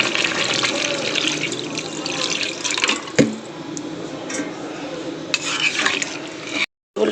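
Water pours from a tap or jug into a pan of fried, well-browned vegetables, a steady broadband splashing and hissing near at hand, with a brief sharp knock midway and a short silent gap near the end.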